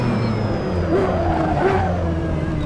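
Mazda 787B race car in the racing game Assetto Corsa, its engine held at full throttle in second gear, a steady loud droning roar that rises briefly in pitch, with no talk over it.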